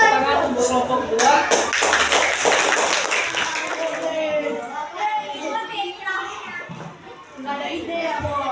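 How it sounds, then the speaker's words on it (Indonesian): Children in a school classroom clap for a student group, a brief burst of many small hands in the first few seconds, then fading into children's chatter and voices talking. "kita kasih tepuk tangan untuk kelompok 2."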